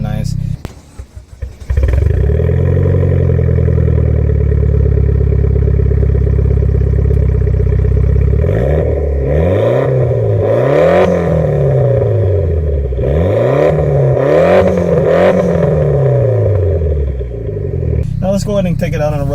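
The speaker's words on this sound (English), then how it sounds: "I'll put in an exhaust clip of what it sounds like in the back, because this exhaust does sound nice" A 2014 Mitsubishi Lancer Evolution MR fires up with a short cranking burst, then idles loudly before several sharp exhaust revs rise and fall in quick succession, close to the tailpipe, ending with a brief clatter.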